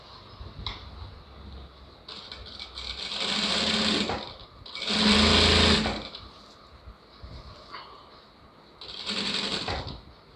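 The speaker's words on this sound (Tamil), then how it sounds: "இப்போ 2வது தையல் போட்டுக்கலாம்" A sewing machine stitches the second seam on a lining blouse, running in several bursts of steady whirring, the longest and loudest near the middle, separated by quieter pauses of handling.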